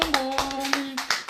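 A short spell of hand clapping from a gathering listening to a talk on reconciliation: a handful of distinct, fairly close claps over a steady low hum.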